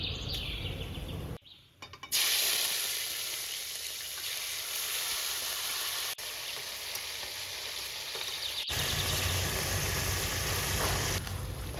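Whole garam masala spices sputter in hot white oil in a wok, giving a continuous close hiss and sizzle with a brief dip near the start and a few sharp clicks, with no voices.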